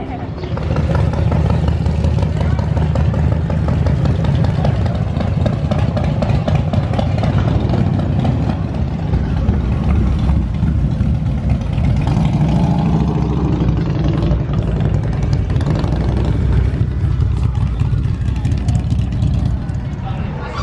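Motorcycle rally traffic rolls through Oatman, Arizona on Route 66, a continuous dense rumble of engines idling and passing at close range throughout, with people talking underneath.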